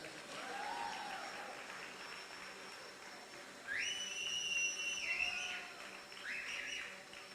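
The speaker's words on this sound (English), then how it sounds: "so you should clap for him better" An audience at a doctorate conferral ceremony applauds softly while sharp, sustained whistles cut through near the middle and end, the clapping holding at a moderate, somewhat distant level.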